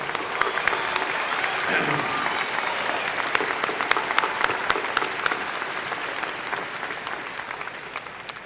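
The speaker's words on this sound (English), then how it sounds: "Let's give them a round of applause." A high school graduation crowd applauds at length, a dense crackling mass of many hands clapping in a large hall, steady and sustained throughout.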